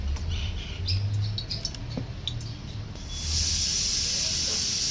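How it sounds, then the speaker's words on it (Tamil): Oil poured into a hot pan for a village-style fish curry: a few quiet clinks give way to a loud, steady sizzling hiss that bursts up and holds through the final seconds. "சட்டி சூடாச்சு, எண்ணெய் ஊற்றிக்கலாம் கொஞ்சோண்டு"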